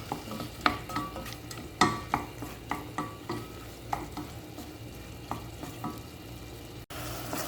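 Tomato with black pepper powder sauteed in a pan: a spatula scrapes and taps in a steady rhythm over a soft, continuous sizzle, close and fairly quiet, with no talking.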